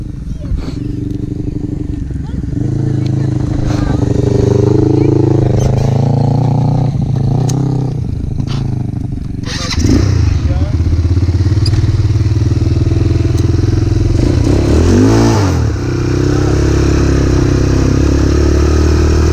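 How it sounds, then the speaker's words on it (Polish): A Kayo 180 motorcycle with a loud aftermarket exhaust climbs a hill, its engine droning steadily and close throughout, with revs rising and falling and a sharper surge midway, while someone talks over it. "Kajon 180 na mocnym wydechu i górka."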